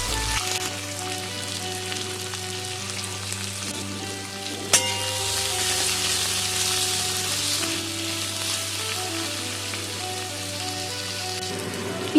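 Black cumin, two green chillies and a large chopped onion frying in hot oil, a loud continuous sizzle like rain after they hit the pan, with a sharp clink partway through and no talking.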